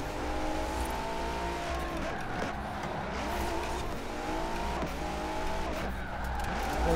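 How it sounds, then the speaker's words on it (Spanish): A car drifting in Forza Horizon 4 with a sustained, loud tire skid and steady engine drone throughout, close and continuous with no talk over it. "Como veis, estoy aquí derrapando"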